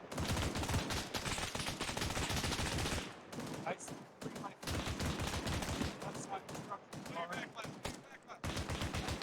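Sustained bursts of automatic gunfire in a military shooter video game fill most of the stretch, broken by short gaps where voices talk, with an anti-tank rocket launch likely buried among the loud, dense shots.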